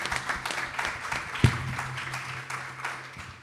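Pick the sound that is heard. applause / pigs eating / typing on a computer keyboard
applause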